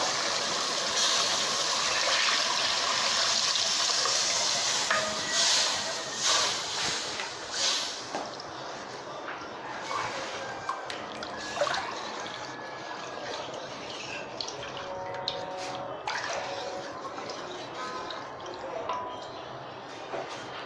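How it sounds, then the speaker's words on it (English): Water pours steadily into a pot of Nigerian concoction rice, a bright splashing stream that fades into scattered drips and light clinks, heard close up without talking. "at this point I will be adding some water"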